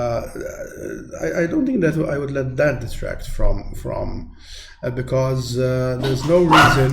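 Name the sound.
dogs barking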